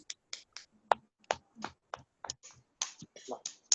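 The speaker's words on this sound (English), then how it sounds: "Clap your hands." Children clapping their hands during an online kindergarten class, a series of sharp, separate claps at an uneven pace over about four seconds, with some voices in the background.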